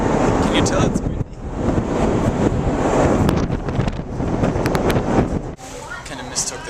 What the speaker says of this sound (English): Can you tell it's windy?